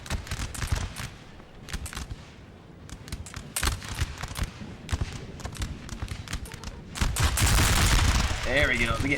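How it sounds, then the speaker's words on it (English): Musket volleys crackle in a Napoleonic Total War 3 battle: repeated bursts of massed gunfire in ragged clusters, some near and sharp, others more distant, building to a dense roar near the end. "We're getting some volleys back in return."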